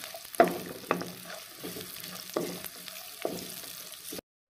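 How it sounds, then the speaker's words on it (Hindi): Soft sizzling of onion and cumin frying in oil, punctuated by several light stirring scrapes spaced a second or so apart, quiet and close. "मैं इसके अंदर ये प्याज डाल दूँगा और साथ ही ज़ीरा डाल दूँगा। ये दोनों फ्राई हो जाएंगे"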